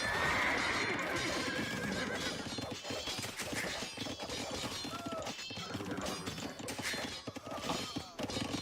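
Cavalier and Castilian cavalry horses charge a town center in an Age of Empires match, with whinnies, hoof clip-clop and crashing combat hits under a dense, continuous battle din.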